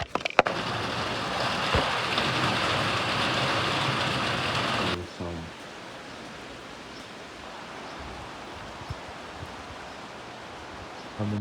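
The first rain of the season falls as a broad, steady hiss, loud and close for about five seconds before abruptly dropping to a softer, even patter.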